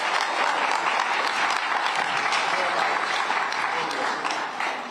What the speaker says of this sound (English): please give a round of applause to yourselves for coming here today.